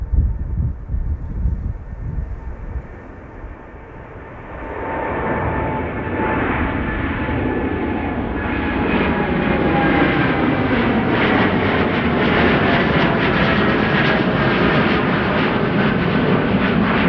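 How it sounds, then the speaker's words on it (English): An American Airlines Boeing 787-8 Dreamliner, five years old, takes off from Amsterdam Schiphol: quiet rumble at first, then from about five seconds a loud, steady jet roar builds and holds to the end with a tonal whine. "American Airlines Flight 203 to Philadelphia is now rolling. 7878 Dreamliner"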